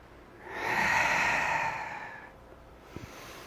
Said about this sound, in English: Breathe in and then breathe out.